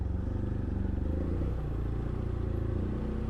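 Motorcycle with a non-standard aftermarket exhaust, ridden solo on an Italian road, rumbling steadily and loudly up close in a continuous low throb with no talk.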